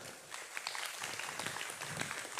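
A crowd claps steadily at an Islamic religious sermon event, a dense wash of applause that sounds somewhat distant and holds at an even level throughout.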